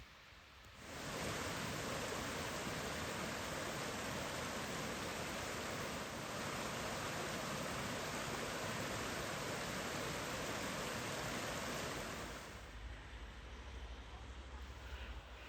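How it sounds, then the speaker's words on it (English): A mountainside waterfall near Skjolden, Norway, with white water cascading down bare rock, gives a dense, steady roar that starts abruptly and holds for about twelve seconds before easing to a softer rush. "I eventually reached the main waterfall. It's great to see the white water cascading down the bare rock of the mountainside."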